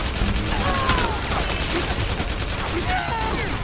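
Tank gunfire in the Metal Gear Solid 4 video game comes as a rapid, continuous fusillade of evenly spaced shots, loud and sustained, with other battle noise mixed in.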